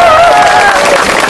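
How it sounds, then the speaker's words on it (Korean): A street crowd in Busan applauds at a live outdoor broadcast, loud and close, a continuous dense burst of clapping with a faint sustained tone running underneath. "요건 박수 한번 주세요."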